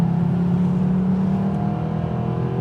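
A Mercedes SLS AMG's naturally aspirated engine drones steadily under load, a smooth, loud, sustained hum as the car accelerates.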